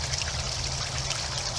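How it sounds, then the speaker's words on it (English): Pond water from a pump-driven backyard fountain trickles and splashes steadily, a close, continuous bubbling stream with no voices. "But it's also doing this fountain."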